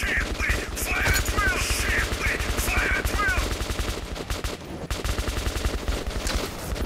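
Gunfire in the video game Metro 2033 Redux, rapid bursts of loud shots crackling in quick succession over a rumbling background, with a brief lull before firing resumes.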